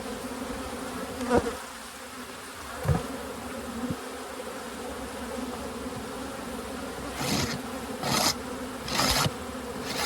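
Honeybees buzz in a steady close drone around an open hive during a fall inspection, with a few louder passes as individual bees fly near, and no talk.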